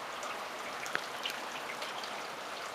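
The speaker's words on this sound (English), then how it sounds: "the rain's sort of backed off" Steady outdoor rain and residual runoff water rushing along a street and through gutters, a constant broadband wash with a few close drip taps, no voices.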